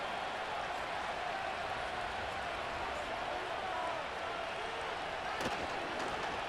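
Steady broad stadium crowd roar from a Madden NFL 25 preseason game between the Chicago Bears and Buffalo Bills, a constant wash of noise with a brief sharp clack near the end.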